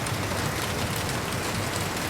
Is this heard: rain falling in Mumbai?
yes